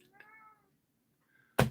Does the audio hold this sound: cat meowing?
yes